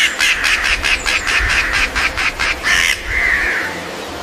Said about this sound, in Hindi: ये है क्रो। क्रो को हिंदी में कौवा कहते हैं।